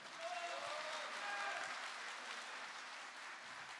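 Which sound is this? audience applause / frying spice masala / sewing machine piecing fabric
audience applause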